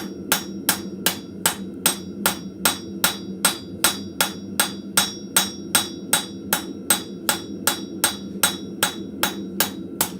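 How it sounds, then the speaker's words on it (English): Ball peen hammer striking metal at a blacksmith forge in a steady, even rhythm of about two blows per second, each strike sharp and ringing over a low background hum, with no talk. "not hitting all that hard with the ball peen"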